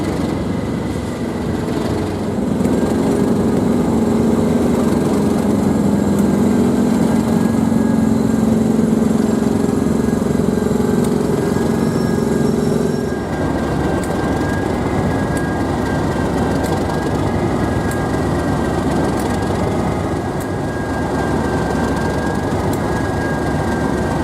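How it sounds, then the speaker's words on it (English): A Class 37 diesel locomotive engine gives a steady, rough, rumbling drone that carries on for the whole stretch, with a throb that rises and eases partway through, heard from close by. "the agricultural sound of the diesel engine of the locomotive"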